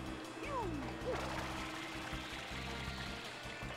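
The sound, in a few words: water spraying from FLUDD in Super Mario Sunshine video game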